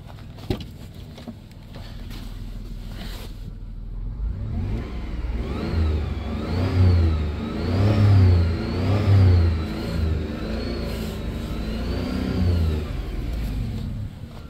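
Engine of a 1997 Dodge Caravan LE minivan, revved repeatedly in a driveway: a steady idle builds into several rising and falling revs with an audible whine, loud and close, no talking.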